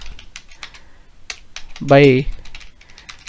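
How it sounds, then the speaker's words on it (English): Computer keyboard typing while a chart title is edited in report software: scattered light key clicks run throughout at a moderate pace, briefly interrupted by a short spoken word in the middle. "you could just start typing like total claim"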